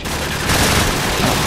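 Rapid gunfire in the video game Call of Duty 4 Modern Warfare, a loud dense burst of shots with no pause over the whole short stretch.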